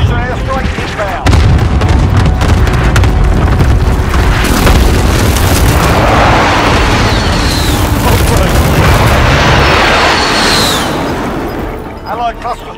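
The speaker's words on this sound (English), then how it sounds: "Enemy precision airstrike inbound." Airstrike explosions in Call of Duty: Modern Warfare, a loud sustained barrage of deep booms and rumbling blasts with whistling streaks overhead, fading toward the end.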